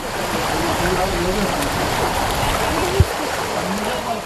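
Çakıt river stream flowing through Kapıkaya Canyon, a steady broadband rush of water with a brief splash near the three-second mark, while a voice talks faintly beneath the flow.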